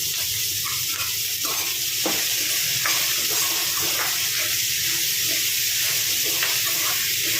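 Onions sauté with salt in a pan for Kerala-style chicken mappas, giving a steady, close, broadband sizzle with a few soft stirring scrapes and no talk.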